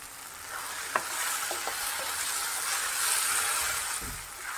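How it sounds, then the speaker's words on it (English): Potatoes sautéing in a pan for a Goan-style cluster beans and potato dish: a constant bright sizzle with a couple of faint utensil taps and a low knock near the end, without voices. "Saute these potatoes for a while."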